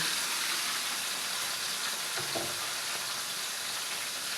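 Frozen pork, stuck slightly to its container, hits a hot pan for a Filipino pork caldereta and sizzles loudly and steadily, a dense close frying hiss with no talk.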